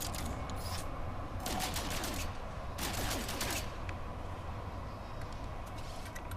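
Rapid gunfire bursts from the No Man's Sky video game crackle in two dense volleys near the start and middle, with sparser shots trailing off over a steady low in-game background hum.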